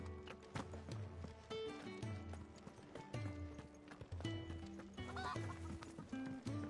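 A chicken clucks in Final Fantasy XVI, mixed under steady clip-clopping hooves and continuous game music.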